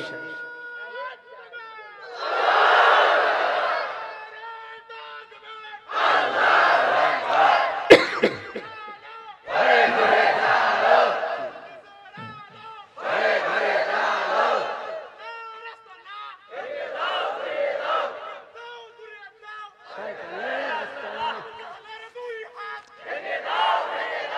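A crowd at a Bangladeshi Islamic sermon gathering in Bogura shouts a slogan together in loud, separate bursts, each call and response rising and falling, with a speaker's voice mixed in.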